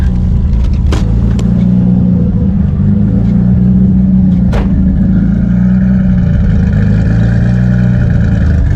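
A tuned car engine running on E85 after tuning, idling loud and close with a deep steady rumble and a couple of brief sharper bursts, no talk.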